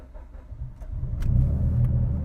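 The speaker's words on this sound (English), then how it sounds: "So it took a little bit more cranks to get it to fire, but not bad." A 2011 Mitsubishi Evo X GSR running flex fuel cranks briefly and then catches, its engine rumble swelling into a loud, steady low idle up close over about two seconds.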